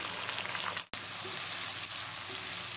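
Tomatoes and green chillies with garlic-ginger paste and cumin fry in a pan for a restaurant-style chana dal, giving a steady broadband sizzle that runs throughout, broken only by a brief drop near the start, with no talking.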